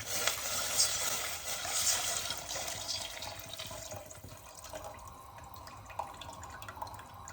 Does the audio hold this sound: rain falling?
no